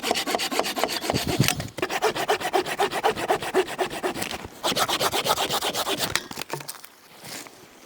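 A hand saw rasps steadily through tree branches in fast, even back-and-forth strokes, pausing briefly before resuming, then slowing to a stop near the end, in a very cold forest.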